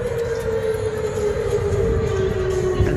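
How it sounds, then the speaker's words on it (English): A tornado warning siren wails continuously in a single steady tone that slowly falls in pitch, sounding at moderate distance over a low rumbling background with no talk. "the tornado sirens have gone off"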